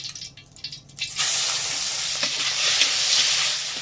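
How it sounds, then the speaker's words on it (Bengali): Shrimp rubbed with salt and turmeric drop into hot oil: a quiet start gives way to a loud, steady sizzle that crackles on. "চিংড়িগুলোকে লবণ হলুদ মাখিয়ে নেবো হালকা করে একটু ভেজে নেব"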